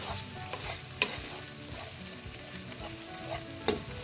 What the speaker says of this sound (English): maybe up to a minute, for that garlic to cook before we start throwing in the rest of the ingredients